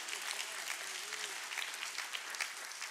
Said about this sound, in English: Yes, clap for Jesus.